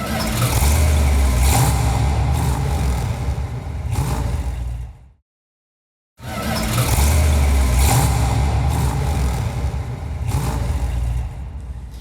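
A Hemi-powered Coronet convertible with a four-speed is driven in, its engine rumbling loudly and revving, cutting out briefly to silence midway, then resuming with the same heavy, throaty drone.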